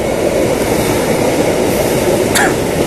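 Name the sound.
commuter train passing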